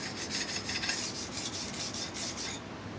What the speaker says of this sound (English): just apply a quick micro bevel